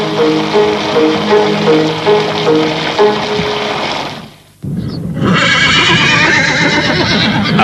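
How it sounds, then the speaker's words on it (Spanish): A Przewalski's horse, the wild takhi of Mongolia, whinnies loudly and close in a string of repeated neighs, then falls briefly silent before a rough, breathy rush of noise takes over. "encontramos en Mongolia al caballo de Przewalski, más conocido como Taki"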